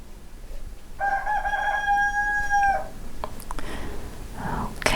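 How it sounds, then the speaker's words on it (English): A young rooster crows once, a strained, tonal call lasting nearly two seconds, set against quiet indoor room noise with a few faint clicks afterward. "there goes my young rooster. Did you hear it?"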